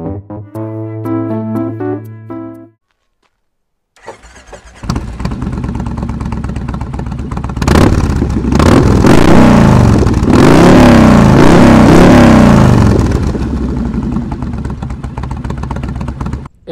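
A Kawasaki Meanstreak 1600 motorcycle with a Hypercharger air intake and Vance & Hines Long Shot exhausts idles loudly, then revs hard several times in a row with a deep rumbling exhaust, close up and without talk.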